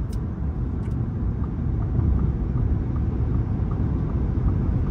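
A heavy Ford F-150 Lightning electric pickup speeds up from about 75 mph on a highway, heard from inside the cab as a constant low road and tire rumble that swells slightly, with no engine note.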